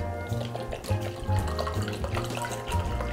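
Kitchen faucet running steadily into a sink, a soft continuous splashing stream with gentle fluctuations, heard close and alone.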